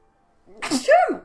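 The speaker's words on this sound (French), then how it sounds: "je vais encore éternuer, non?" One sharp sneeze, close and clear: a brief intake, then a quick explosive burst.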